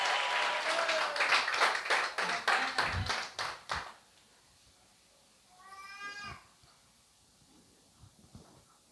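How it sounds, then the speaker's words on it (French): A church congregation at a New Year's Eve service claps steadily in rhythm for several seconds, the claps loud and close. The clapping stops and a brief high wavering cry follows over quiet room noise. "On applaudit nos bonnes enfants ce soir à l'église."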